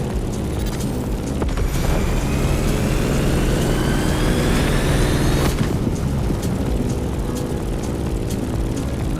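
A propeller airplane in the racing game The Crew Motorfest roars loudly and continuously through turbulence, a heavy droning engine note with a rising whine and a deep rumbling boom partway through.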